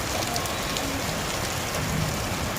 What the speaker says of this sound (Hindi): आवाज आ रही बारिश की